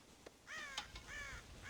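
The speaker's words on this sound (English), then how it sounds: "God damn crows!" Crows cawing around a farm silo in the video game Red Dead Redemption, several harsh caws in quick succession over faint background ambience.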